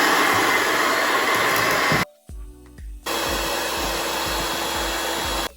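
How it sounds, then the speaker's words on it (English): An electric mixer whisks egg whites in a tilted bowl with a loud, steady high whir. It drops out briefly partway through, then resumes at full strength. "we're gonna start whisking up the egg whites using this machine"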